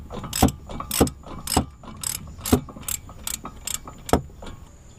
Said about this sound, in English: Gotta get this bolt and this bolt out that I'm messing with right now.